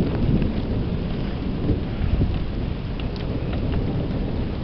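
Steady rain from a thunderstorm pours down close and loud, with low rumbling thunder rolling underneath throughout and no voices.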